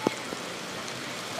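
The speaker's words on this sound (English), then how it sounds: "Rain intensifying again, making it a little bit harder." Steady rain falling outdoors at a show-jumping competition arena, a dense even hiss throughout with a brief louder tap near the start.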